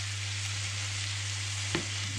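Venison chops frying in a pan over medium heat: a loud, steady hiss of sizzling fat over a constant low hum, with a single brief clack of a utensil near the end.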